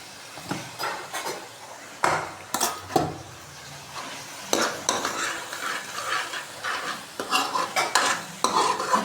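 A spoon scrapes and stirs masala frying in oil in a pan for a home-cooked paneer dish, with soft sizzling under repeated rhythmic scraping strokes close by.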